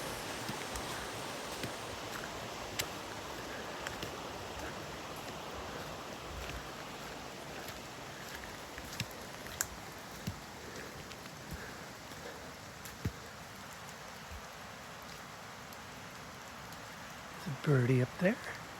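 Steady rain falling on the forest trail to Buck Gulch Falls, a dense continuous hiss with occasional louder drips, and a brief rustle or thump at the very end.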